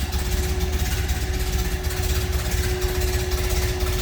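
A 1930 Ford Model A Tudor sedan engine idles nearby with a steady, loud, even chugging and a faint whine, running throughout without pause.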